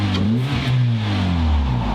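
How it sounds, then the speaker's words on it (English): A Honda Civic that came in as a flood car, with its rear muffler rusted away, revs its engine up and down in a loud, raspy, continuous growl close by, with no talking. "Man, why does everything sound like it has a custom exhaust? It's from up north, you know. I think the muffler is rusted away in the back"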